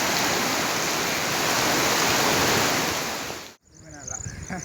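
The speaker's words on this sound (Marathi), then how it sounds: "आवाज बघा पाण्याचा" Loud, continuous roar of the flooded Ulhas River rushing, then a sudden cut to quieter flowing water.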